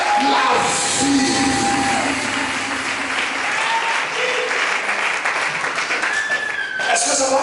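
A congregation applauds during a church worship service, sustained loud clapping across the whole stretch with voices mixed in, swelling again near the end.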